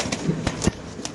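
A Lahori pigeon gives a few short, soft coos close by, in a brief burst.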